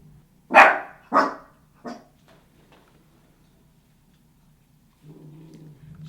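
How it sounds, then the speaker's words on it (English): A dog named Sugar barks three times, loud and close, each bark shorter and fainter than the last, then falls quiet before a low steady hum comes in, likely a lawn mower outside. "Sorry if you guys hear Sugar barking,"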